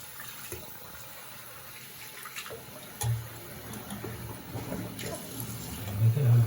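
Kitchen sink tap running water for a Labrador puppy's bath, a soft low hiss and splashing that grows louder toward the end, with faint voices in the background.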